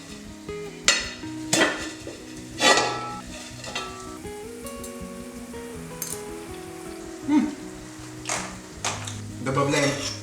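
Rice for Bukharian Jewish sirkaniz plov is stirred in hot oil, giving loud, crackling bursts of sizzle and scraping at irregular intervals, with a voice talking at times.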